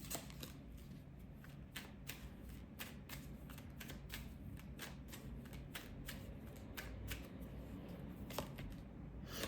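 A tarot card deck shuffled by hand in a quiet room, a steady run of quick papery riffles and soft card snaps for several seconds with no talking.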